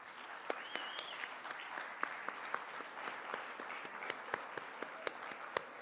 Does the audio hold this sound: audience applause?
yes